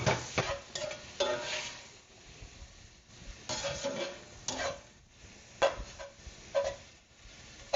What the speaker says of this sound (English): I'm going to put the beef in just for a little bit